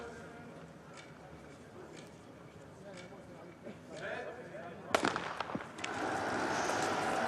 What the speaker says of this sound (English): Slightly better start and no double gun, so Dario Colonia in a good position in the